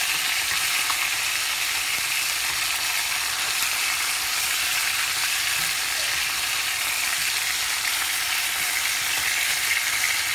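Chicken fries in a pan for Guatemalan pollo guisado, making a loud, continuous sizzle with bubbling crackle and occasional scraping from stirring.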